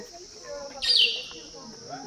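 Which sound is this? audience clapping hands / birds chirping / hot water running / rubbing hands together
birds chirping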